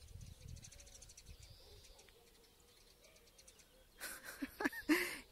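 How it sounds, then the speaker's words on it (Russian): Birds coo and chirp at a distance in a quiet outdoor setting, followed by a louder burst of close chirping near the end. "слушать весенние звуки, пение птиц"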